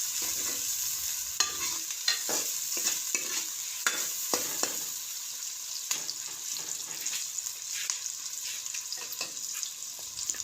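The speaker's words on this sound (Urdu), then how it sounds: "اب ہم اس گھی میں پیاز شامل کر دیں گے اور تھوڑی دیر تک کے لیے اس کو چمچ کی مدد سے ہلائیں گے۔" Onions frying in hot ghee for a Pakistani tomato-onion curry, stirred with a spoon: a steady bright sizzle runs throughout, broken by repeated scraping and clinking spoon strokes, close and clear with no talking.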